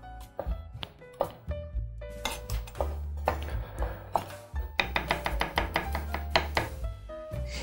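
A knife chopping garlic and carrot on a cutting board, with irregular wooden knocks that speed up into a quick run of crisp strikes near the end, close and fairly quiet, with faint kitchen clinks in between.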